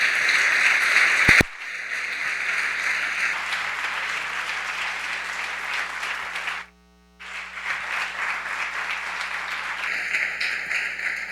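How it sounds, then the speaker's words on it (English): Audience applause for a returning guest speaker at a talk, a dense, sustained wash of many hands clapping that briefly drops out near the middle before resuming, with no voices over it. "Let's give a round of applause"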